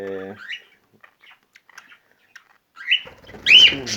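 Pet birds flutter loose in a bird room, giving short chirps and a few soft wing flaps, then closer, louder calls at the end, against a mostly quiet indoor background.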